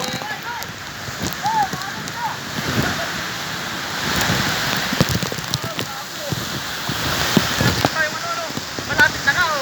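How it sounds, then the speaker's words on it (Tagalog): Heavy typhoon rain pours steadily in Lucena, a dense continuous roar of water on surfaces with gusts of wind, loud and close, while voices talk intermittently over it. "Sa tindi po ng ulan dito, napakalakas talaga."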